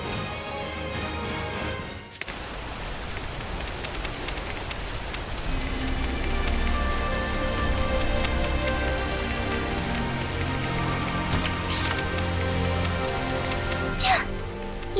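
Rain falls steadily in the video game Tales of Zestiria, a continuous hiss that runs the whole time beneath characters talking and game music, with a short dip near the start.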